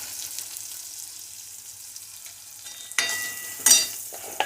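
Masala spices, tomato and onion fry in a pan for an eggplant curry, a soft sizzle that surges louder with a sharp burst of frying as ingredients hit the hot oil.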